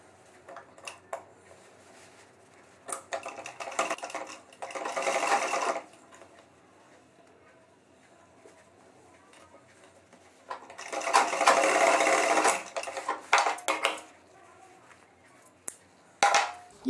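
A sewing machine runs in several bursts, stitching a double-welt back pocket on trousers, with quiet pauses between close, whirring runs of stitches.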